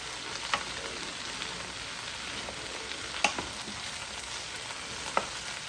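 Vegetables fry in a Power XL cooker with a soft, continuous sizzle, and a utensil knocks against the pot a few times while they are stirred.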